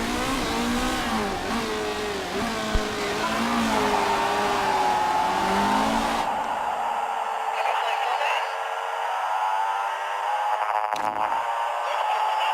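Race car engines in the Motorsport Manager video game produce a continuous, loud engine drone with rising and falling revving tones that thins out partway through as fewer cars run.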